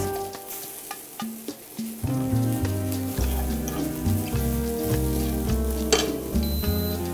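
Cauliflower fries in a pan with a steady, close sizzle and crackle that grows louder after a quieter start, with occasional stirring clinks and no talking.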